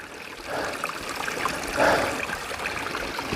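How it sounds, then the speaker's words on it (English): A small stream trickles beside the Appalachian Trail, a steady close burble of running water that swells briefly midway, with no talking. "Here's a nice little water feature for you."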